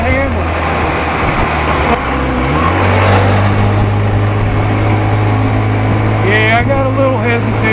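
A 55 hp Evinrude outboard motor runs on a test, its engine holding a loud, steady drone whose pitch shifts as the revs change, while someone talks over it.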